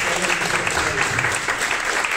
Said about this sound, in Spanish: Denle un aplauso fuerte a nuestro Dios